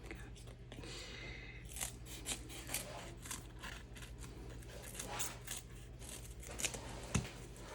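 Scissors snipping through card paper with short, quiet, repeated cuts at an irregular rhythm, heard close up over a faint background hum.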